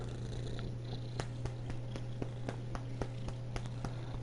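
A cat in a video game purrs steadily and loudly up close, a continuous low rumble with faint soft taps ticking along in the background.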